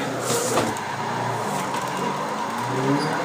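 A Nissan 180SX drifting on a mountain touge road in the Assetto Corsa racing game, its engine droning steadily at high revs with a faint tire squeal, continuous and fairly loud.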